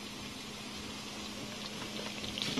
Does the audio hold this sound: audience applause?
no